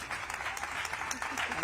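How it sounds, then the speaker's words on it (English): Audience applause for a panel at a cancer-focused event, a short burst of dense clapping from a crowd filling the moment. "can we give this amazing panel just a huge round of applause?"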